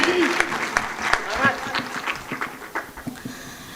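An audience at a Hindi poetry recital claps in a brief burst of applause, moderately loud with a voice talking over it.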